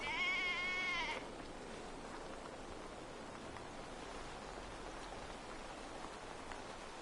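A sheep in the video game Assassin's Creed Valhalla gives one clear, close bleat, followed by a steady wash of rain-like ambient noise with no further calls.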